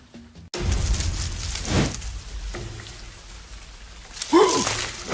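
Steady rain hisses throughout, broad and continuous, with a brief voice near the end.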